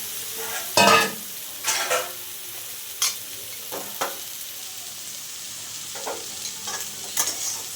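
Radish greens frying with garlic and dried chilli, a steady close sizzle broken by several loud stirring scrapes and clatters at uneven intervals.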